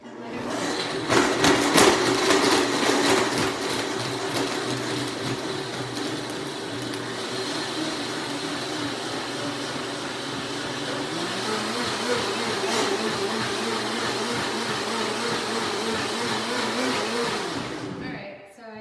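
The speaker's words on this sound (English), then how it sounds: "in my handy dandy blender, I'm going to turn it on and let it run." A blender whirs loudly and steadily for a long stretch, its motor pitch shifting slightly as it churns, then stops abruptly at the end.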